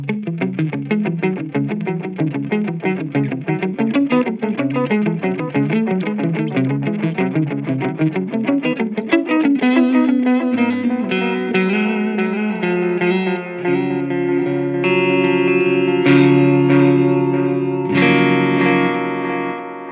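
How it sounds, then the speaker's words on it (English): An electric guitar played through a FLAMMA effects pedal in tape delay mode, placed in a POD GO effects loop: loud rapid picked notes repeat as echoes, then shift to sustained chords and single notes trailing warm, wobbly repeats, with no talking. "Let's switch over to the tape delay mode and see what kind of tones that gives us."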